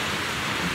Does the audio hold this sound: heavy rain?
yes